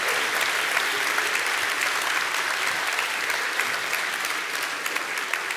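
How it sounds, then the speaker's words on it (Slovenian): A theatre audience at a 50th-anniversary celebration of a sheltered workshop centre applauds steadily, a dense, even wash of many hands clapping throughout with no talk on top. "Dajmo en aplavz našo gledališko skupino."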